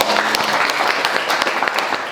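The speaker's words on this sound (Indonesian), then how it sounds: "Tepuk tangan." An audience at an Islamic talk applauds, a dense continuous wash of many hands clapping at close range, loud and sustained throughout.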